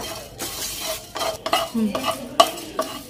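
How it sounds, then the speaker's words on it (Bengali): Whole spices, including coriander, cardamom, cloves and bay leaves, being stir-fried lightly in a pan, with a soft sizzle under repeated scraping and clinking of a spoon against the metal, close and moderately loud. "হালকা করে ভেজে নেব"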